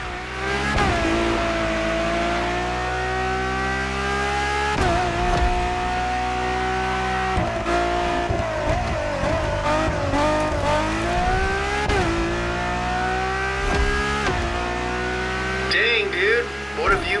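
Expensive cars racing in The Crew Motorfest video game, a loud sustained engine roar that rises and falls in pitch through repeated gear changes and revving, with brief tire sounds near the end.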